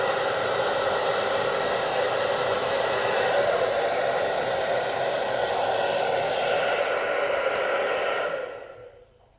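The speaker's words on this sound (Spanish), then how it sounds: "Vamos a ir alternando el cepillado con el secado para evitar que se nos formen nudos y que se nos estropee el pelo." A hair dryer blows steadily while a rabbit's fur is dried between brushings, a loud, even, close whirr that holds for several seconds before shutting off and spinning down.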